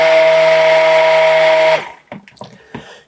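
A stick blender blitzes pine soap batter made with soap nut lye, a loud, steady motor whine for just under two seconds that then cuts off, followed by faint clatter and knocks.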